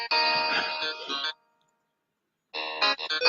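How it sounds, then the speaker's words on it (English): A mobile phone ringing with a musical ringtone during an evening meeting in Vancouver, playing loudly for over a second, cutting off briefly, then starting again. "that's my phone."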